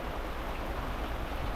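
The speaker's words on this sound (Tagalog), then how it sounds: "grabe yung lakas ng ulan" Heavy rain pours steadily on a boat out at sea, a dense, even hiss of water that stays loud and unbroken with no voices over it.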